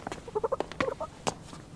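A parrot, as a drama CD sound effect, lets out a short string of squawks and chirps, close and fairly loud, ending with a sharper cry and no speech.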